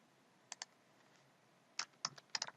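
Sparse keystrokes on a computer keyboard, first two isolated clicks and then a quicker cluster of taps, close and faint in a quiet room.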